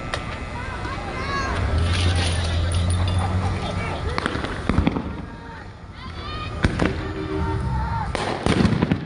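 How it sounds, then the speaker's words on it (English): At a street protest, fireworks are thrown at police. Several sharp bangs and crackles burst over constant crowd noise and shouting. Voices are heard throughout, and explosions cluster near the middle and end. "they're gonna throw a firework at the officers right there"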